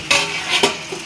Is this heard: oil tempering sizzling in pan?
yes